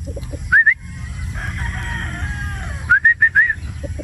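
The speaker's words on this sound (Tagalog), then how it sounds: "Gwapong manok." A gamefowl rooster, a 3/4 Sweater 1/4 Boston straight-comb cross with red eyes, crows in short loud bursts, once early and then in a repeated run, over low steady background noise.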